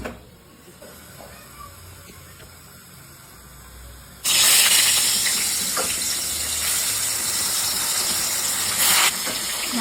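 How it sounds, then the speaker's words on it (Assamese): Fish frying in a pan for Assamese fish curry, a sudden loud spattering hiss bursting in after quiet kitchen sounds and continuing steadily close by. "মাছটো ফ্ৰাই কৰি লওঁ"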